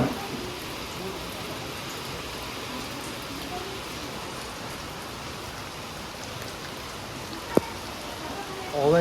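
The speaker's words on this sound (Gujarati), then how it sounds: "વરસાદ ફૂલ પડે." Heavy rain pours down outdoors, soaking parked vehicles, as a steady, dense hiss that fills the whole stretch with one sharp click near the end.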